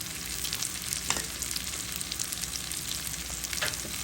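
Sliced onions and green chillies frying with turmeric powder in a pan make a dense, continuous sizzle, with occasional soft stirring scrapes, close and steady.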